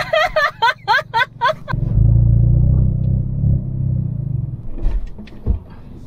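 A manual-transmission Hyundai Veloster N hatchback is driven: short rhythmic pulses of engine revving give way to a loud, steady, close low rumble from inside the car, fading slightly near the end.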